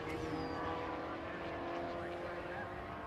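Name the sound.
MGB race car driving on track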